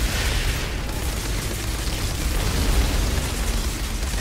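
Dense, continuous battle din from the video game Outriders, with explosions and gunfire blurring into one loud, steady roar of booms and bursts across the whole stretch, no voices.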